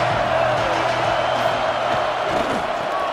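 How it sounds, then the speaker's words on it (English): Loud, continuous cheering from a college football crowd in College Football 27, a game against Michigan, a thick sustained roar with a faint voice mixed in. "This crowd bringing the energy and noise early"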